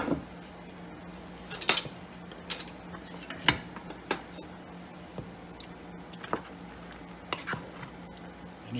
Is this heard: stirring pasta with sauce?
yes